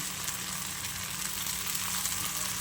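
Sabudana fries sizzle steadily in two or three spoons of oil in a pan, a dense, even crackle that holds close and constant throughout with no voices.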